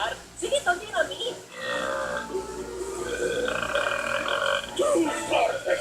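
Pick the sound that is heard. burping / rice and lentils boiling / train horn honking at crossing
burping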